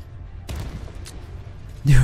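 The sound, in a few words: tank cannon fire in the video game Armored Warfare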